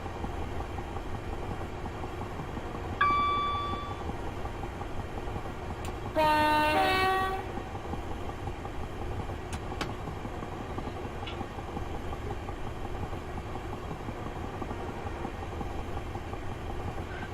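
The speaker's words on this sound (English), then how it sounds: "Train is increasing in speed slightly as we go down the hill here, just before Longfield." A Class 375 electric train runs in Train Simulator 2018 with a constant rolling rumble, a brief horn blast near the start and a louder two-tone horn midway, then steady running alone.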